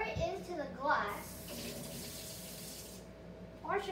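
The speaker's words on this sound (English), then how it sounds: "We're gonna pour it into the glass." Homemade slushy being poured into a glass, a steady wet, gushing pour lasting a couple of seconds between short bursts of nearby talk.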